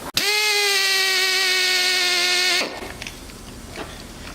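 A power drill with a bit and cutting oil boring out a hole during a Del Sol coilover install, a sustained high whine for about two and a half seconds that stops abruptly, leaving faint rustling.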